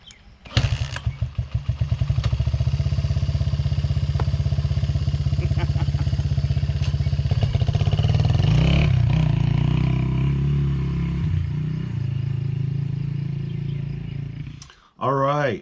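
A small, old Honda motorcycle engine starts up close, idles with a steady throbbing putter and rises in a couple of revs. The engine then cuts out, and a voice speaks briefly at the very end.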